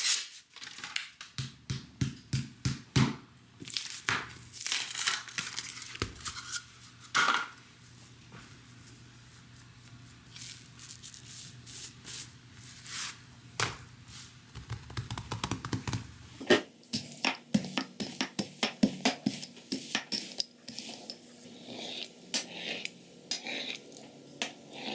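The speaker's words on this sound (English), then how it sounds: "We're gonna roll this out and then we're gonna cut some pieces to go into our little mini muffin pan." Pillsbury pizza crust being rolled out and cut for a mini muffin pan, heard as a long run of clicks, taps and knocks from utensils on a counter, bursts of close clatter with quieter gaps between them.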